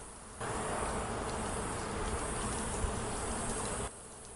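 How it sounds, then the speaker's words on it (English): Bees swarm high in a tree, likely a large hive, making a steady, dense buzzing hum that starts abruptly, holds evenly for a few seconds at moderate distance, then stops, with no voices. "there's just buzzing up there. There's got to be a giant beehive."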